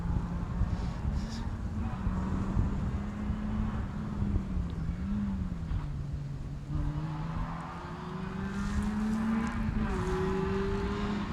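Two rally cars, one a Ford Fiesta, on a stage of the East Riding Stages Rally, engine notes droning and shifting in pitch as they approach and pass at moderate distance, with wind buffeting the microphone.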